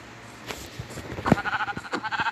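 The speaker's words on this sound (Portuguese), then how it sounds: "Olha isso. Uma ovelha." A sheep gives a long, wavering, pulsing bleat at moderate distance after a few quieter outdoor rustles.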